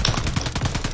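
Rapid automatic gunfire in a Call of Duty match, a loud, close burst of several evenly spaced shots filling the whole second.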